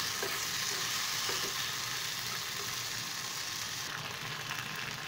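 Spices and tomato fry in a pan, a loud, continuous hissing sizzle that holds steady throughout with no voices.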